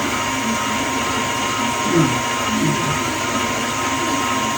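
Electric mixer beating eggs for pizzelle batter, a steady whirring motor hum that runs evenly throughout, with faint voice murmurs underneath.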